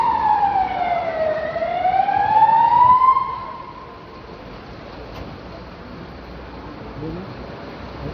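A fire truck siren at a fire wails, dipping low then rising, before fading out over a few seconds amid background noise.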